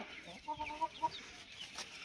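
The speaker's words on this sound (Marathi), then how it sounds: "हे आपल्या गावराण्याचे नवीन कोंबडे" A rooster lets out a few soft, short clucks at a distance, spaced unevenly over a steady background hiss.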